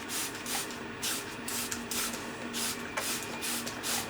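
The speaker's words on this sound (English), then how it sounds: "I sprayed isopropyl alcohol all over it, forcing whatever residue off" Isopropyl alcohol sprayed over a resin 3D print, a run of short, fairly loud hissing spray bursts repeating at close range with brief gaps between them and no voices.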